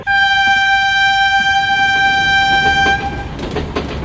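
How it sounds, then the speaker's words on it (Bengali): An express train departing from platform 1 at a station sounds a loud sustained horn for about three seconds, then rumbling wheel and carriage noise takes over as it pulls away. "ও পাচুদা, ট্রেন ছেড়ে দিচ্ছে তো।"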